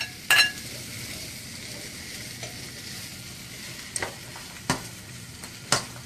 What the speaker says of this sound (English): Okay, I'm going to also add our peppers in there.